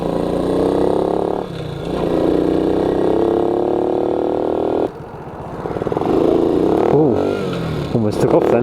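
A Honda Cub cafe-style motorcycle engine revs and accelerates while riding, a loud buzzing drone climbing in pitch, dropping with gear changes and rising again, with a rider talking over it.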